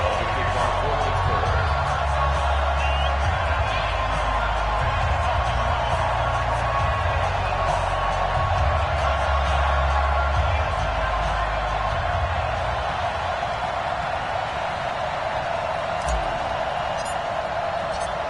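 A sold-out stadium crowd cheers during the pregame introductions of a Patriots–Steelers EA Sports football video game, a broad steady roar under continuous commentator talk.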